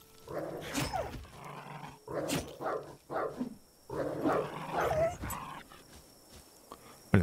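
An upgraded companion dog in the video game DYSMANTLE growls and barks in several bursts, close and fairly loud, with short quiet gaps between them.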